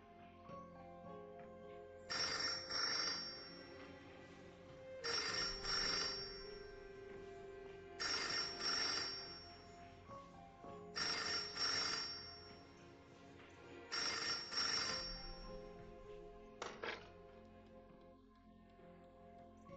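A telephone rings in five evenly spaced bursts, each a double trill, clear and alone against a quiet background.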